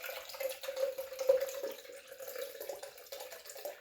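Coconut water pours steadily from a container for a hemp seed smoothie, a close gurgling trickle that runs evenly for a few seconds without talk.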